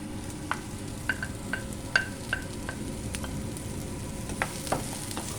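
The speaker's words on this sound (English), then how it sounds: "Now I am going to add onions," Onions sautéing in a pan for coconut mint chutney: a quiet, steady sizzle with scattered light clicks and taps of stirring throughout.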